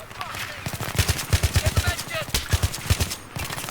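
Rapid bursts of automatic gunfire in the video game Battlefield 3, loud rhythmic shots in quick strings with brief gaps, mixed with other game sounds and some speech.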